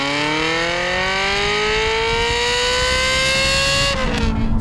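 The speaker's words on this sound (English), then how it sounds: "with that exhaust note, it is worth winding out all the way." A Ferrari F355 GTS engine revs steadily higher with a loud, rasping exhaust note, climbing in pitch before dropping sharply as the gear changes.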